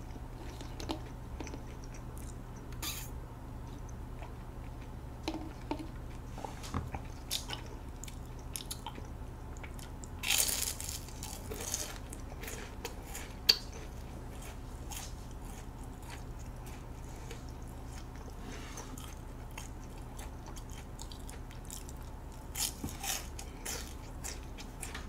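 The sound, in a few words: eating dessert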